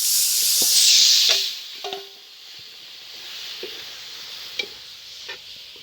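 Chicken pieces for Kerala chicken curry sizzle in a pan with tomato: a loud hiss at the start fades to a quieter sizzle, with a few scraping stirs of the spoon, no talking.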